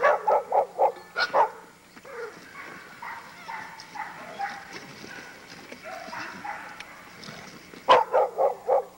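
Chained pit bull barking in a kennel yard, bursts of rapid, loud, close barks at the start and again near the end, with quieter yips and movement in between.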